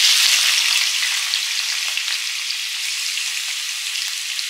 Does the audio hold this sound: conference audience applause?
no